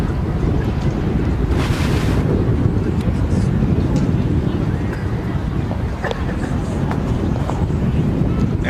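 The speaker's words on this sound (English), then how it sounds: "The wind is coming all the way underneath from the bridge, all the way from the ocean across the western portion of Mission Bay through the bridge" Strong wind gusts buffet the microphone over the open water of Mission Bay along a rowing course, a loud, constant low roar with rushing surf-like noise throughout.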